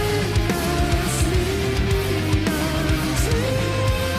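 Dense progressive rock or metal excerpt with distorted guitars, driving drums and a sustained lead line, loud and continuous throughout.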